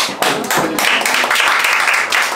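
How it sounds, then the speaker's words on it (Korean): Audience applause at a book launch event for a film-and-tea book, a steady wash of many hands clapping close by, with scattered taps and a few shouts mixed in, filling the whole stretch. "우리 하도김 대표님한테 박수 한번 쳐주자"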